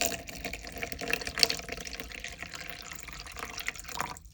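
Water trickles and pours steadily into casting powder in a mixing container, a soft continuous fill at close range with no talking.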